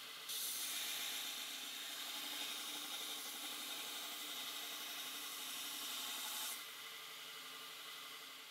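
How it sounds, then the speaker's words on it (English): Grinder cutting a chamfer on a metal edge: a continuous loud, hissing abrasive rasp held steady for about six seconds, then easing off as the grinder spins down, close by with no talking. "Next, I'll grind a chamfer on the edge"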